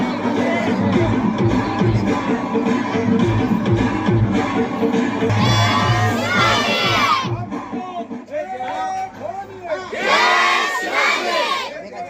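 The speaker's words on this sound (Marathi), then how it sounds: "मंद्रुप येथील मराठा समाज बांधवांनी माजी उपसरपंच रमेश नवले यांच्या नेतृत्वाखाली मोठा जल्लोष रॅली काढण्यात आली" A large crowd of Maratha community members, women and children among them, cheers and shouts in waves at an outdoor celebration rally in Mandrup marking the granting of reservation, loud and close with rising bursts of yelling.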